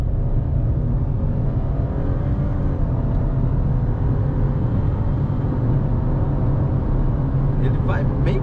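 A 2023 Fiat Pulse Audace 1.0 turbo accelerates onto a highway, a steady low engine and road rumble filling the cabin as someone talks over it throughout.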